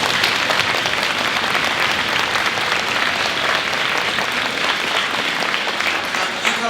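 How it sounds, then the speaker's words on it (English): Sustained applause from a middle school band concert audience after a solo fills the whole stretch, a dense, steady wash of clapping with no pauses. "So let's give it another round of applause."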